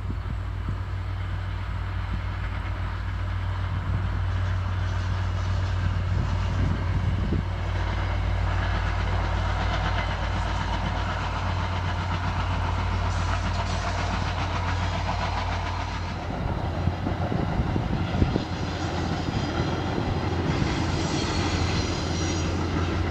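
An MBTA commuter train rolls across the Gloucester drawbridge, its engine droning loudly and steadily, with wheels rumbling and clattering over the bridge span as the cars pass close by.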